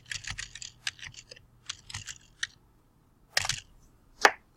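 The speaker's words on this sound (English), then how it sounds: "I'm going to type in my last name" Keys tapped on a computer keyboard while a last name is typed into a save dialog, short clusters of close clicks separated by pauses, ending in a couple of sharper isolated key strikes.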